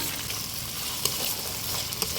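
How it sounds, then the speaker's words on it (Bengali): Chopped tomatoes frying in a pan with garlic paste, onion and ginger paste, a steady hissing sizzle with a couple of sharp pops, close and alone with no talk. "তারপর দিব কেটে রাখা টমেটো"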